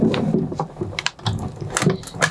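A Big Shot Plus die-cutting machine rolls plates through as its crank turns, making a close, ratcheting mechanical clatter with repeated clicks and grinding.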